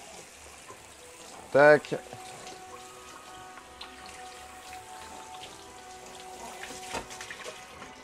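A cooking plate is rinsed under running water, a soft steady splash and trickle in a kitchen, close but fairly quiet, with a brief louder burst near the start and a short spoken word.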